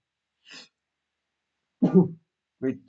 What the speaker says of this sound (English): Great time for sneezing.